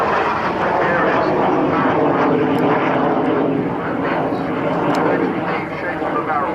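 A propeller aircraft at the RAF Cosford air show, part of a 2013 Aerostars display, roars steadily overhead with a broad, continuous engine drone that swells slightly and then eases, with a faint commentary voice underneath.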